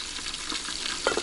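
Porridge simmering in a pot on a gas stove at an outdoor camp, a steady soft bubbling and sizzling hiss with a few brief louder clinks near the end, no talk.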